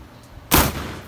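A single loud, close gunshot from a firearm, a sharp sudden blast followed by a short ringing decay, with no talk over it.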